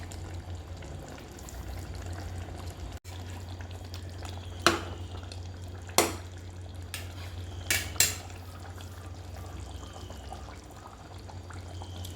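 Chicken curry with boiled yellow beans being stirred in a pot, a few sharp spoon clinks against the metal standing out over a steady low hum.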